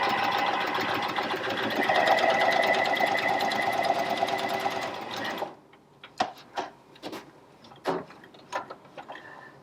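A Janome Coverpro 1000cpx coverstitch machine runs close and steady through fabric for about five seconds with a whirring mechanical hum, then stops and gives way to scattered handling clicks and taps.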